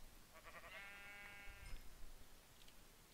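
A Minecraft sheep bleats once, a short wavering in-game bleat near the start over a faint noisy background, with no talk.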